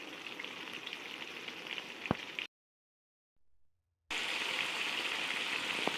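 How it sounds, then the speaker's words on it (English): Pieces of orange chicken fry in hot oil, giving a steady close sizzling hiss that drops out completely for about two seconds, then resumes just as strong. "So I'll show you what it looks like after it finishes frying up."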